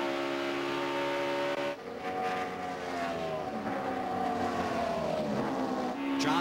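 NASCAR race cars roar past on the track at the 2009 LifeLock 400, a dense, continuous engine drone with shifting whines as cars pass, steady and loud throughout.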